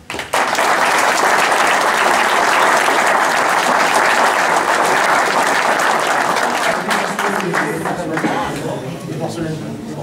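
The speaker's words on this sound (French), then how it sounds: "on peut les applaudir" Sustained audience applause at a hunting dog pack contest in Roiffieux, 2023, a dense loud wash of clapping across the whole stretch that thins slightly toward the end as a voice emerges.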